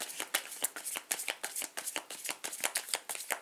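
Tarot cards are shuffled quickly up close, a rapid series of soft riffling flicks and taps in an even rhythm, quiet and alone with no talking.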